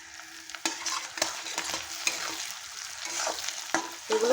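Red capsicum being stir-fried in a pan for chicken Manchurian, with a soft continuous sizzle and repeated scraping strokes of a spatula at a close, moderate level, no voices.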